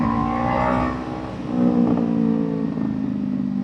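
A Kawasaki Ninja 500 motorcycle accelerates on the road with a steady engine drone that rises and dips as the throttle rolls. The sound is close and loud throughout, with no talk.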